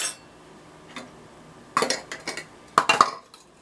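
Metal teaspoons clink and rattle while being handled during donut baking, with a few sharp clusters of chinks spaced over a few seconds and quiet gaps between them.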